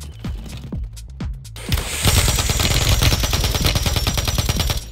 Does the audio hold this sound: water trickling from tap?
no